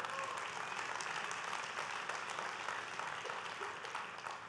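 Sustained applause from an audience at a community event honoring members of parliament, a dense, steady wash of many hands clapping at moderate volume that tapers slightly toward the end.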